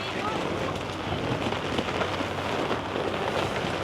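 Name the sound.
rain falling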